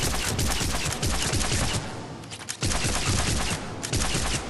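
Rapid arc pistol shots from Mass Effect 3 crackle in dense, harsh bursts, loud and close, with two short pauses between volleys during short-range target practice.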